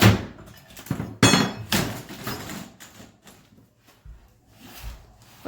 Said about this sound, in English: he's taking the tool and prying the baseboards off